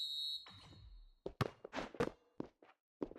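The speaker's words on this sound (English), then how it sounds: "that's the final buzzer" Final buzzer in the basketball video game Dunk City Dynasty, a steady electronic tone that holds for about a second before cutting off, followed by scattered thuds and clatter with quiet gaps between them.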